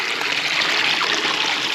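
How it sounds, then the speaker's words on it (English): Shallow stream water, only finger- to elbow-deep and running over leaves, gives a steady, close hiss of trickling flow. "the water's not very deep, right? It just comes a little ways up my fingers."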